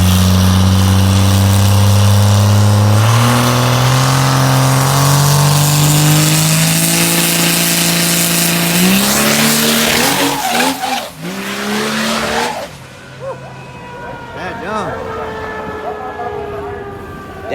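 Cummins diesel-powered Ford Ranger street truck at an outlaw diesel racing event, roaring loud and up close as its engine climbs through gears, then tire squeal and a fading, lower rumble as it pulls away.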